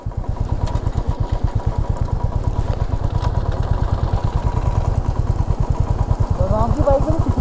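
A motorcycle engine idles close by with a fast, steady, loud throbbing pulse on a mountain road trip from Manali to Zanskar in Ladakh, and a voice briefly sounds near the end.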